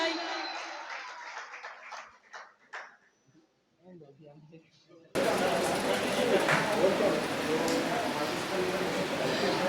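Audience applause for students, schools, principals and teachers at a Karachi inter-school speech competition. Someone speaks over a quiet hall first, then a sustained wash of clapping from a large crowd suddenly swells and continues loudly to the end.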